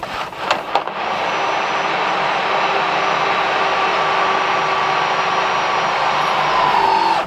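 A power drill bores a hole through a two-stroke engine barrel during a broken stud repair, a steady loud whine held for several seconds after a few brief knocks, alone with no talking.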